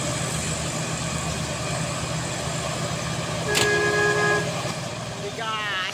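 A heavy truck grinds up a steep hill on the Trans-Sumatra highway. A low, steady engine drone continues throughout, a horn toots once midway, and voices talk over it.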